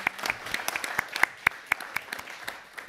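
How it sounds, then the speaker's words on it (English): Audience applause with individual claps popping out of a steady patter, sustained and fairly close for the whole stretch, at the end of a conference session on monitoring water, sanitation and hygiene systems. "You should have seen how Aiden was clapping for that chocolate"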